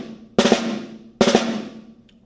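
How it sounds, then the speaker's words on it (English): Rudimental drag on a concert snare drum: two crisp, distinct grace notes flicking into an accented primary stroke, played twice with a ringing decay, close and alone. "I am actually going to be using the rudimental interpretation of the drag"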